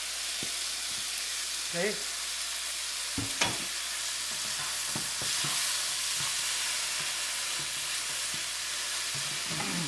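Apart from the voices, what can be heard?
tomato ketchup added to sizzling pan of tofu and eggs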